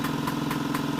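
An old, worn air compressor that is slow to build pressure runs close by, a steady motor drone with quick regular pulses and nothing else over it.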